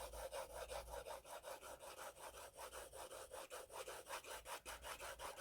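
A pencil shading on paper, rubbing back and forth in a quick, even rhythm of close, papery strokes, with no talking.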